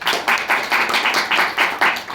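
Students in a classroom clapping together, a close, loud burst of rhythmic applause with about nine evenly spaced claps in a little over two seconds.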